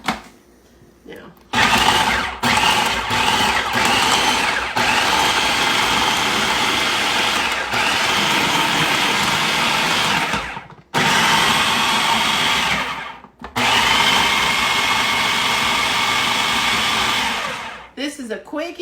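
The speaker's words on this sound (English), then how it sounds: "this is a quick, easy way to grind the turkey up" Cooked, skinned turkey meat being ground in an electric food grinder, a loud steady motor whir running in several long bursts with brief stops between them, alone without talk.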